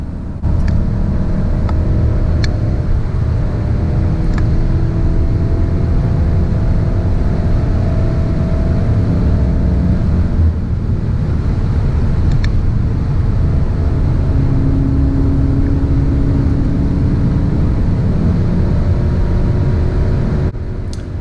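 Volkswagen Golf 7 R on the Nürburgring, a loud continuous engine drone from inside the car with steady road and wind roar and no clear rev peaks, running throughout with no talk.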